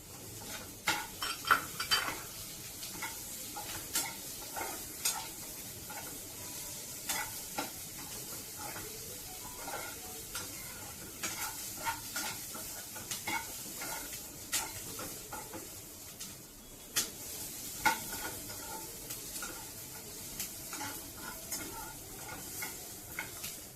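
Garlic cloves, seven or eight of them, sizzle in a hot pan for Delhi-style chole, with steady stirring and frequent scrapes and clinks of a spoon against the metal pan throughout.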